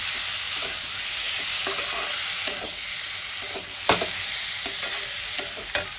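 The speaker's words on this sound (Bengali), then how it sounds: "গ্যাসের ফ্লেমটা আমি লো টু মিডিয়াম করে দেবো। ভালো করে কষাতে থাকবো।" Sliced tomatoes sizzling in a pan over a low to medium gas flame for a Bengali katla fish curry, a constant close frying hiss with several sharp spatula scrapes and taps spaced through it.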